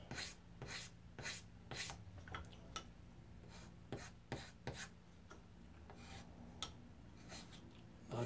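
Blade scraping down a sticky wedge from a wooden molding plane, heard as quiet, close, repeated short rasping strokes in an irregular rhythm, with no talk.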